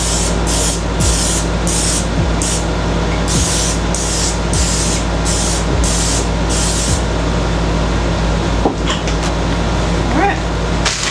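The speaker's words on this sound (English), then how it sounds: "I'm going to spray them. This is a 0-calorie olive oil spray, non-stick." Repeated short hisses of an olive oil non-stick cooking spray can, about ten quick bursts in a row, over a steady low background hum.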